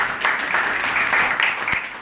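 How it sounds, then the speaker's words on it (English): An audience in a temple hall gives a round of applause during a Sunday spiritual talk, steady close clapping for about two seconds with a few sharper claps standing out, no talk on top. "Let's give her a round of applause too."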